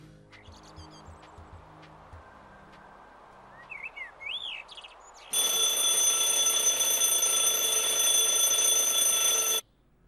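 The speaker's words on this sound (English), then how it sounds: "When I hear the alarm clock go" An alarm clock rings loud and steady for about four seconds, then cuts off. Birdlike chirps and faint sounds come before it.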